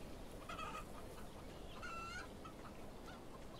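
Chickens in a HumanitZ chicken coop cluck and squawk in two short bursts over a low, steady outdoor ambience, fairly faint and distant, with no voices.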